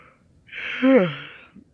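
A single drawn-out breathy yawn-like exhale rises and then slides downward in pitch, close and fairly loud, with quiet before and after.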